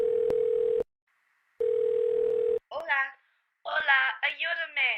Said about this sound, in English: the god Arceus calls the protagonist's phone